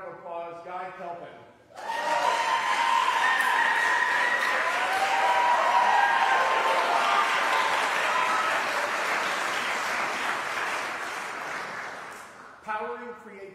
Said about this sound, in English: please come out for a round of applause, Guy Kelpin